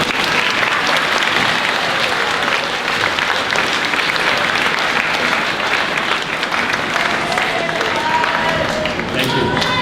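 An audience at a junior high school year-end awards ceremony breaks into loud, sustained applause, with many hands clapping continuously throughout.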